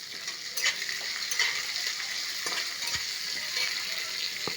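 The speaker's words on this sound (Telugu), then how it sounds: "ఇది బాగా వేగనిద్దాం." Chopped onion, green chillies, ginger, garlic and curry leaves fry in hot oil, giving a steady, bright sizzle throughout with occasional faint stirring clicks from the pan.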